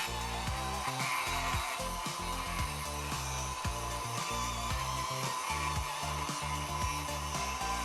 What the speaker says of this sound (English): Even with the hairdryer.